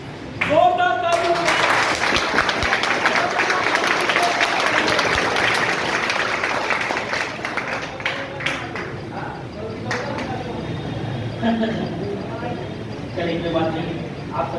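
Loud, sustained applause from an audience at the launch of a new coaching class batch, a thick wash of clapping that gradually tapers off, with speech emerging toward the end.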